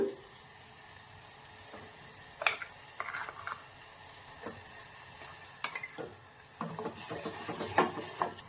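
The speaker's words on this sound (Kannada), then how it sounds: "ತುಪ್ಪದಲ್ಲಿ ಮಸಾಲೆ ಎಲ್ಲ ಬಾಡಿಸಿದ್ದೀನಿ" Masala frying in ghee for tomato rasam, a soft sizzle under scattered stirring, clinks of a spoon against the pan and a few louder scraping bursts.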